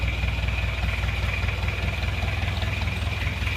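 A rebuilt Isuzu Panther Miyabi diesel engine idles cold with a steady, close, rhythmic low chugging and a faint knocking pulse, loud and even throughout with no voices.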